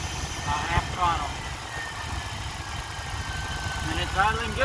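A car engine with throttle body injection idles, a steady low rumbling drone close by, while someone talks over it.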